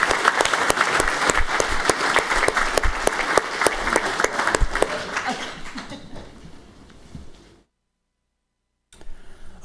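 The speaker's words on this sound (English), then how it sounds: "I think some applause." A town council meeting audience applauds steadily for about six seconds, then the clapping fades out and silence follows.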